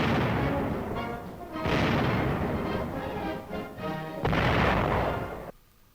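Bursts of heavy gunfire from a .50 caliber aircraft machine gun in comparison firing, loud sustained volleys with brief pauses between them, from an old 1951 Army film soundtrack.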